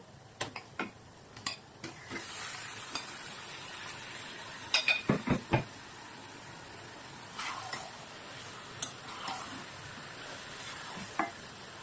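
Chicken pieces poured into a pan of browned onions for a coriander chicken curry, giving a steady low sizzle with scattered utensil clicks and scraping taps, close and fairly quiet, no talking.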